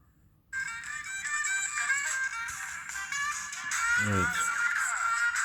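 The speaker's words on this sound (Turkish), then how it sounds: "Müzik çalıyor." A T500 smartwatch plays music through its small built-in speaker: a thin, tinny melody that starts suddenly after a brief quiet moment and continues steadily, growing slightly louder near the end.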